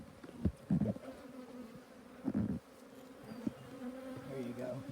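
Honeybees from an opened hive colony hum in a low, steady drone throughout, with a few brief louder bursts of movement and handling noise close by.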